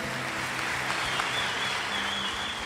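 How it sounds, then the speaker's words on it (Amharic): An audience at a youth gathering applauds, a steady dense clapping crowd heard from a moderate distance for a few seconds. "አረ ዘራፍ! አጨብጭቡለት በደንብ።"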